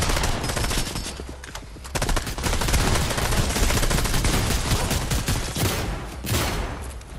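Rapid automatic gunfire while shooting at enemies in Fortnite, dense continuous bursts of loud shots with brief gaps, sounding close and relentless.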